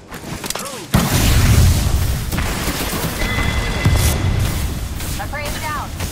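In the battle royale game Apex Legends, a grenade goes off with a heavy booming blast and rumbling tail, loud and close, as game effects and a voice carry on around it.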